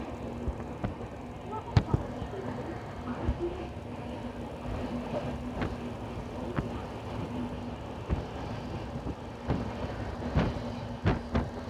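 The Saraighat Express passenger train from Howrah to Guwahati pulls into Bardhaman Junction. A low, steady rumble carries recurring sharp clanks and rail clicks, with a faint murmur of voices inside the carriage.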